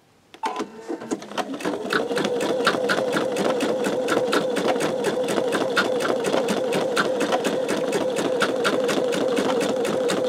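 An embroidery sewing machine stitches a curly cue design on a greeting card with peel-and-stick stabilizer, starting with a few separate stitches and then settling into a steady, rapid, close mechanical stitching rhythm that runs alone.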